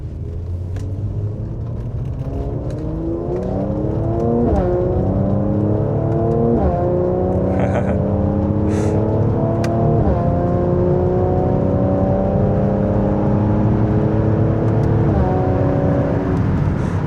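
A Mercedes-AMG C43 accelerating hard on the autobahn, heard from inside the cabin: a loud, continuous engine drone rising in pitch through several gears, with clear upshift breaks every few seconds and no talk.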